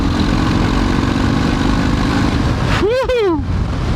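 A 2019 Harley-Davidson FXDR with its 114 engine cruising on the highway, a loud, steady low engine drone mixed with heavy wind rush, and a brief rising-and-falling pass of another vehicle near the end.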